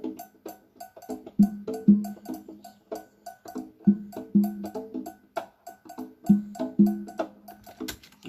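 Congas played by hand in a cascara variant layered over a Mozambique rhythm, heard alone as a steady syncopated pattern of close, resonant low drum tones and sharper slaps repeating in bursts.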